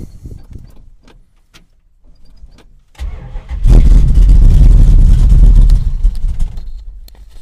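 A 1967 Dodge Coronet 500 hot rod engine is briefly cranked, then catches and settles into a loud, steady idle close by.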